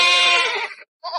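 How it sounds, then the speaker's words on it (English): A small sheep bleats loudly inside a horse stable, one long wavering cry, then a short gap and the start of another bleat. "To calm him, Tom carried in a little sheep"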